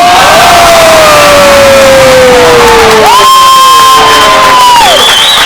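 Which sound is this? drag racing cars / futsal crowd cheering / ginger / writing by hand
futsal crowd cheering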